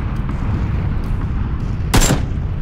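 Gunfire in the PUBG battle royale game: a steady low rumble of distant shooting runs throughout, with one louder, sharper crack about two-thirds of the way in.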